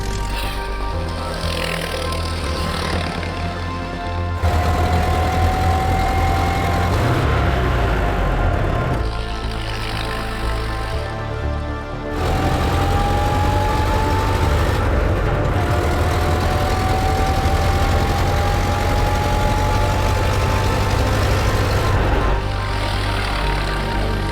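A 1913 Theophile Schneider Aero racing car with a 10-litre engine pulls away on a racing circuit, its deep, rough engine roar rising in pitch through several gear changes, loud and continuous.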